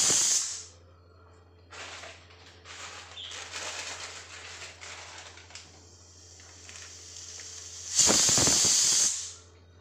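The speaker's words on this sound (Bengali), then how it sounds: "তরকারি আমার প্রেশার কুকার বসানো রয়েছে" A pressure cooker cooking vegetable curry lets out two loud bursts of hissing steam, one short at the start and a longer one near the end, with quieter kitchen clatter in between.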